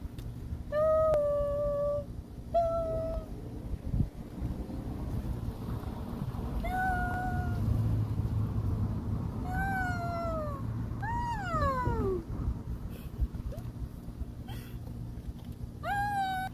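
A cat at a seaside fishing spot in Taean, Korea gives a series of clear meows, some short and some drawn out and rising, over low outdoor background noise.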